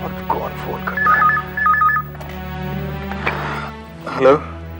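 A telephone rings in two quick pulsed bursts near the start, moderately loud over a low background score, followed by a voice and clatter.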